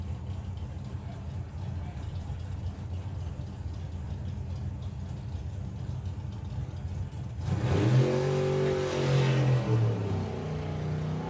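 A drag racing car at Santa Pod Raceway runs a steady engine drone that rises sharply in a loud revving surge as the throttle stop releases, heard from a distance with crowd ambience and a commentator talking.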